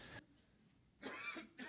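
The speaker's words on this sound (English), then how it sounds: "I'm going to have to switch this mic off again so I can cough." A man coughs with his microphone switched off, so it comes through faint and distant: one short hack, then after a pause two more quick muffled coughs.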